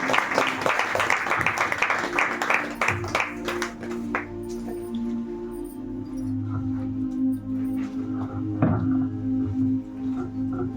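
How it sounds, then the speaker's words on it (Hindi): Applause at a church special meeting: brisk, dense clapping for roughly four seconds that thins out and gives way to sustained tones and a voice. "इसको जोरदार ताली बजाएं।"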